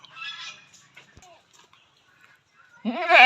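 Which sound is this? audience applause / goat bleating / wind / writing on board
goat bleating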